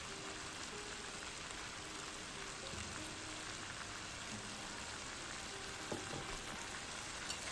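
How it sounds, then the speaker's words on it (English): Shrimp and green peppers stir fry in a wok with salt and oyster sauce, giving a steady, even sizzle and crackle with faint stirring, unbroken and moderately quiet throughout. "Stir fry for another 10 times"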